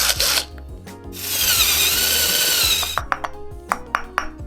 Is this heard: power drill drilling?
yes